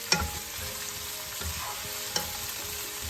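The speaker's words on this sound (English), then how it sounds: "We roast it until it's reduced amount and keep roasting, keep it stir because we don't want to burn our methi leaves." Chopped methi (fenugreek) leaves roasting in a pan, a soft continuous sizzle with scraping stirs and a couple of sharp clinks of the spoon against the pan, no voices.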